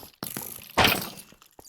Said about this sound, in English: now I need to purge bomb